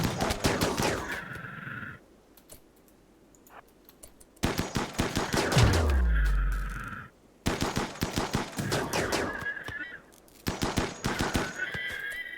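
Bursts of gunfire from the colony-building video game RimWorld, set on a low-tech arctic expedition, come as rapid volleys in three loud clusters separated by quieter gaps, with a deep rumbling swell in the middle.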